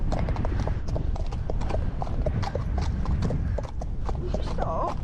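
Hooves of a young ex-racehorse ridden bareback in high winds clip-clop in a steady, close rhythm through roughly five seconds, over constant blustery noise, with voices talking in the background.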